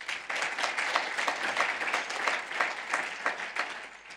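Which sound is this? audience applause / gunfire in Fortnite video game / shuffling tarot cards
audience applause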